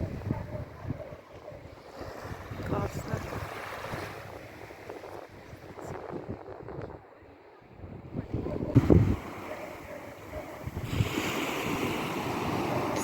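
Black Sea surf washes and rumbles steadily beside a pier in Odesa, buffeted by wind noise on the microphone, with a few louder surges.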